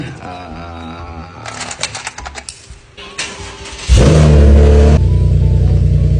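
A sports car engine fires up and revs hard, a loud sustained roar taking over after a few seconds of mixed mechanical noise, close to the listener.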